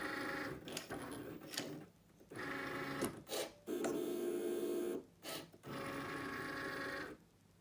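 A Cricut machine's blade cutting through paper for a paper birthday cake, a steady mechanical whirring in repeated bursts separated by short pauses, close and moderately loud with no talking.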